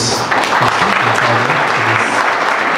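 An audience at a May Day celebration at Don Bosco Technical Institute in Silchar claps to welcome Father Surjit, a loud, steady wash of many hands applauding close by, with a faint voice underneath.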